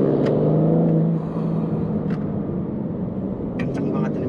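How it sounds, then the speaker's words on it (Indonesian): BMW M4 Competition in its most aggressive drive mode, engine note rising and dropping through gear changes, with brief shift pops, heard under someone talking. "Pindah giginya, lalu juga suara pada saat pindah gigi itu"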